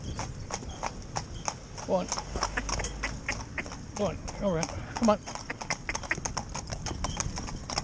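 Hooves of two Gypsy Cob horses driven in tandem clip-clop in a brisk, steady rhythm close by, with a voice urging them on over the hoofbeats.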